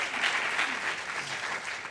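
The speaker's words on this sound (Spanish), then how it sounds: "le das aplauso fuerte" A church congregation applauds loudly and steadily, dense clapping filling the space from start to finish with no break.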